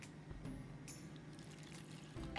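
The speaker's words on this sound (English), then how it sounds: "So I am going to pour the Ammonia in." Ammonia poured into a container for cleaning jewelry, a faint steady trickle of liquid running for a couple of seconds without talk.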